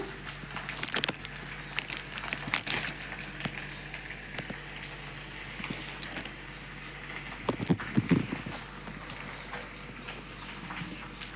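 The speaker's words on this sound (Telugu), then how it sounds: "ఆయిల్ ఇటెక్కిందండి, ఇప్పుడు గారెలు వేసుకుందాం." Vada batter for buttermilk vadas is dropped into hot oil and fries with a steady, rain-like crackling patter, with brief louder bursts as pieces go in; no one talks.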